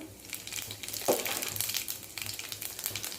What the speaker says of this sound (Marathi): तेल गरम झालेलं आहे एक चमचा जिरे टाकून घेऊया